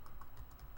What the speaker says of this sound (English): I'm going to type the name of the class